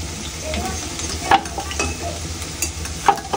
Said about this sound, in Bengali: আলু ভাজা মেবি কমপ্লিট।